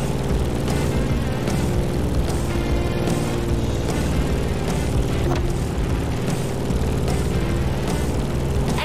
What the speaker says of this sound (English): In the cockpit of a stunning Grumman F-8F Bearcat,